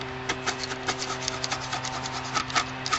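Old paint being rubbed off a Dynascope telescope tube, rapid scratchy rasping strokes in an irregular rhythm, close and fairly quiet over a faint steady background hum.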